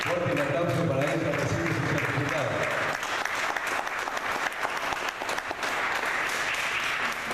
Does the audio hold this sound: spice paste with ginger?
no